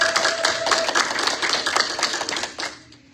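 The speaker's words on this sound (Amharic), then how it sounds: "እስቲ አጨብጭቡና መስሙን ትቻላችሁ።" A congregation in an Ethiopian Orthodox church in Virginia claps in a quick, busy patter of many hands that fades toward the end.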